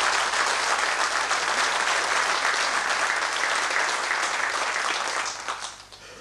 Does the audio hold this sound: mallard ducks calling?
no